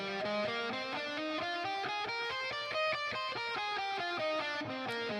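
An electric guitar plays a steady run of single notes climbing and descending the Aeolian minor scale at an even pace, clean and fairly quiet.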